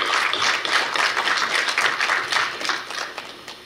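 Guests at a Korea University KU-KIST graduate school entrance ceremony applaud a newly introduced student, a brisk, continuous burst of many hands clapping in a hall that tapers slightly toward the end.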